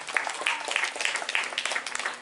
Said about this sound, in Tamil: முடிந்தால் உங்கள் கரகோஷத்தையும் வழங்கலாம்.